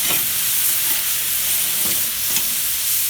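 Johnsonville chorizo sausages sizzle in a pan over a hot fire, a dense, continuous hiss and crackle heard up close and steady throughout.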